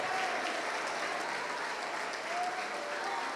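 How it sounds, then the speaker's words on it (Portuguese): Church congregation applauding steadily during a worship service, a dense, continuous wash of clapping from a crowd that holds a fairly even level throughout. "Vamos aplaudir ao nome de Jesus."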